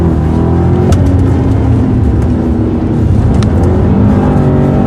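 A 2015 BMW Alpina B6 Gran Coupe with an 8-speed transmission accelerates hard on a racetrack, its engine roaring loud and close with a rising drone and brief shift dips and no talk over it.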